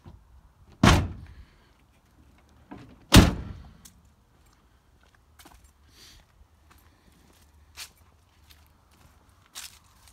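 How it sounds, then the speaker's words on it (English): Car doors on a 1973 Imperial Le Baron shutting: two loud, solid thunks close together early on, then fainter knocks and handling sounds, with quiet between them. "The door shuts, perfect."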